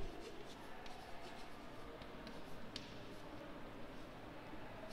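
A pen or pencil scratches quietly across paper during a Bengali class lesson, with faint, irregular strokes and short ticks over a soft background hiss.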